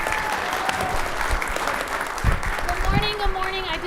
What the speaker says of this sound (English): give a round of applause to Dalene